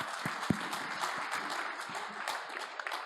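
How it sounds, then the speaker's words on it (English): Applause follows a speech at a startup pitch event, a dense, steady patter of many hands clapping, fairly quiet and distant, with a few sharper individual claps standing out. "great applause for the great speech"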